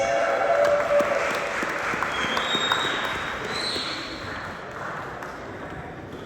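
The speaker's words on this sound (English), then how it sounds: "Please give a warm Baltimore round of applause to Dan Brady of Barrel House." Audience applause at a poetry reading in Baltimore, a steady wash of clapping from a room of listeners that carries through the whole stretch and slowly tapers off.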